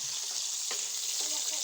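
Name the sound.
frying store-bought fish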